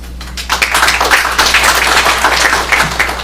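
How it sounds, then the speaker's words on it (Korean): Sustained applause from a workshop audience on climate change adaptation policy in Korea, a dense, even wash of clapping for about three seconds following a speaker's closing comment. "지금 박수는 용감한 발언에 대한 박수였습니다"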